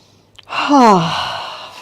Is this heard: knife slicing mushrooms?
no